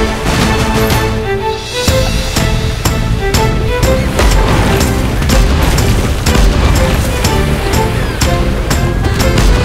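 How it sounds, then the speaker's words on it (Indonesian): Cannon shots boom repeatedly in a pirate-fort video game over upbeat music, with punchy blasts and pops landing in quick succession. "Ketuk tombol ini untuk menembak meriam mereka."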